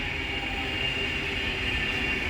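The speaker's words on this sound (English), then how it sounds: "And there is the Avanti West Coast service from Blackpool North to London Euston." An Avanti West Coast Class 390 Pendolino, unit 390.005, running from Blackpool North to London Euston passes through Stafford on the West Coast Main Line, a steady, continuous rumble with a constant high electric whine, fairly loud and without voices.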